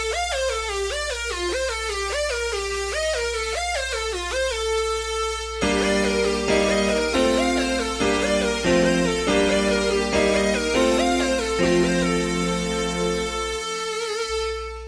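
Three synth sounds stacked together: a sweeping, screaming filtered lead over pulsing chords and a deep sustained bass, dense and loud, running continuously with no talking.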